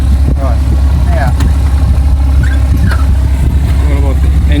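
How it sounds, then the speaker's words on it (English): A 4-cylinder horizontally opposed aircraft engine idles close by, a loud steady low rumble throughout with higher mechanical clatter on top and people talking over it. "It's a 4-cylinder, 4-cylinder. horizontally opposed engine."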